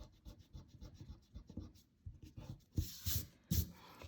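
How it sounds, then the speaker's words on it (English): Pencil scratching and rubbing on paper while a pencil drawing is worked on, with quiet irregular strokes that swell into louder, faster bursts of eraser rubbing near the end. "So we can erase in here."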